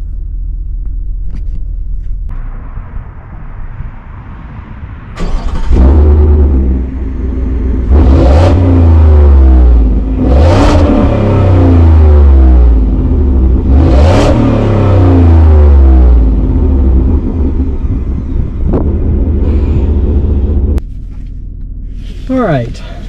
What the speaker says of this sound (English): I'll pop out and let you listen to the exhaust note here